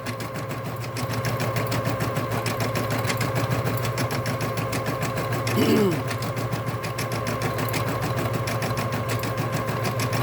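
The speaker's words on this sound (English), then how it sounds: "I'm just gonna let the machine run, so you guys can just see it, see it go." Bernina Deco650 embroidery machine stitching steadily, a fast, even mechanical chatter with a fine regular pulse, close and continuous, with a faint brief voice-like sound partway through.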